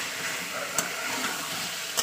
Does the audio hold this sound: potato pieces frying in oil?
yes